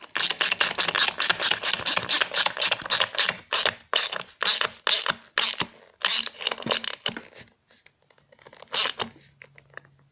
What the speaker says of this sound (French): je vais juste serrer deux boulons.